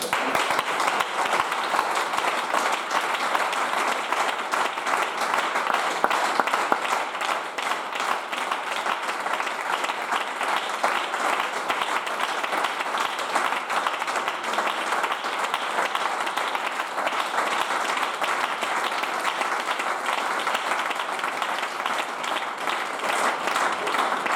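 A church congregation applauds in sustained, dense clapping that carries on at an even, loud level for over twenty seconds without pause.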